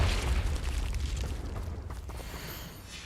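A Confringo spell explosion in Hogwarts Legacy, a single heavy booming blast at the start that rumbles and slowly decays into a fading roar.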